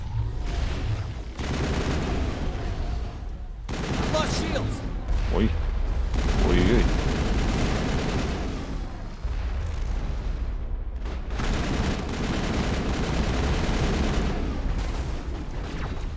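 Bursts of rapid video-game gunfire and booming blasts from Mass Effect fill the scene in waves, with brief lulls between, while a man lets out short exclamations.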